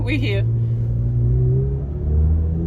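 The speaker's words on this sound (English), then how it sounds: "Do you hear this? I mean, that's that V8 engine." A 2022 McLaren 720S Spider convertible supercar's V8 engine rumbles loudly and steadily from close by, with a brief voice-like sound at the start and a slight swell in the revs near the end.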